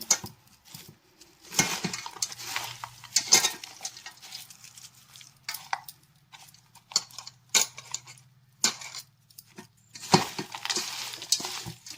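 Spoon scraping and clinking against a bowl while bitter gourd pickle is mixed with salt and chili powder, with intermittent soft strokes and taps through a mostly quiet background.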